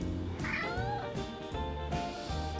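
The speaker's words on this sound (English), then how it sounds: "Kitty likes the smell of yogurt cooking," A pet cat meows repeatedly in a kitchen while homemade yogurt cooks in an Instant Pot, a series of close, rising and falling cries over a steady low hum.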